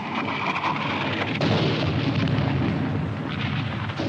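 Heavy artillery fire in a WWII war film booms as a continuous dense rumble, loud and close, with rolling low blasts and no voices over it.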